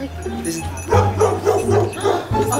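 A dog barks and yips in a quick run of sharp calls close by, with a voice talking briefly around them.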